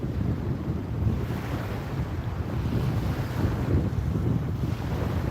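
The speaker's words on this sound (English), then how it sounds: "It's a bit cool and windy today, but bearable." Steady wind buffets the microphone on a Florida beach with a low, rumbling roar, gusting slightly throughout, with faint surf in the background.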